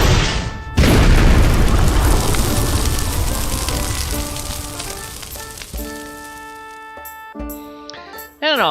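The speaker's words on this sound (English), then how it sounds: "all of your spell effects. Your magic missiles. And your fire spells." Fantasy spell effects including magic missiles and fire spells, a loud sudden boom followed by a long crackling, sizzling burst that fades, then a few sharp whooshing zaps near the end.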